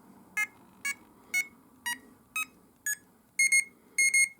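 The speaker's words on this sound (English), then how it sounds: "Double beep again." A Chub Neuron T3 fishing bite alarm sounds a run of evenly spaced, crisp electronic beeps, closing with two quick double-beep tones, clear and alone.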